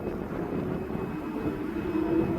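Ryanair airliner from Palma de Mallorca at East Midlands Airport, a steady low broadband engine rumble with a faint whine, heard from a distance and holding even throughout.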